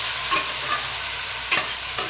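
Mutton sautéed with vegetables in a pan, a continuous loud sizzle broken by a few sharp scraping stirs, close and with no voices.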